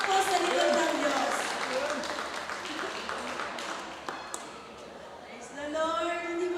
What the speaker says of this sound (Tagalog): Isang malakas na palakpak po sa likod ng Diyos